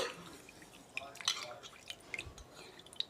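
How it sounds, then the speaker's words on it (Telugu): Millet grains being rinsed in water, with soft drips, light splashes and small clinks of a vessel scattered across the moment, fairly faint and close by. "ఏ రకం మిలెట్స్ అయినా సరే శుభ్రంగా కడుక్కోవాలండి"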